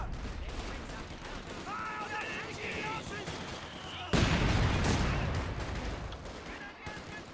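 Mortar and gunfire in the Company of Heroes 2 multiplayer game: rattling bursts of rifle and machine-gun fire, then a loud booming blast near the middle, with in-game voices heard over the battle.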